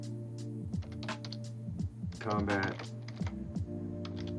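Someone types on a computer keyboard, giving a scattered run of quick, close key clicks under a person speaking.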